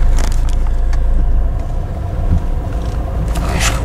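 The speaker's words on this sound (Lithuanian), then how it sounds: "pradedam važiuoti." A 2005 Peugeot 407 diesel pulls away, its engine rumbling steadily and close up with a low, continuous drone and small mechanical clicks, no voices.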